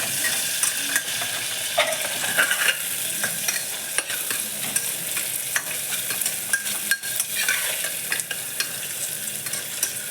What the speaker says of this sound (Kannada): ಈರುಳ್ಳಿ ಮತ್ತು ಹಸಿಮೆಣ್ಸಿನ್ಕಾಯಿ ಎಲ್ಲ ಚೆನ್ನಾಗಿ ಫ್ರೈ ಆಗಬೇಕು